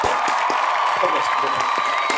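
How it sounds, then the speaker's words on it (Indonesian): An audience breaks into brief, dense applause during a live podcast session, the clapping running throughout with a voice talking over it. "tepuk tangan buat 5 orang jawabnya benar"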